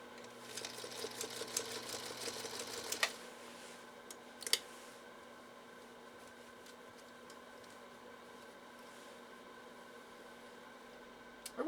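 A Singer Featherweight sewing machine stitches through 3 to 4 ounce full grain leather in a rapid burst of mechanical clatter, then a few isolated clunks, followed by near quiet.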